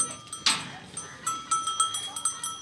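Tota Pari goats at a goat farm, one short bleat near the start, then a steady run of light metallic clinks, like cowbells, tapping along under faint farm background.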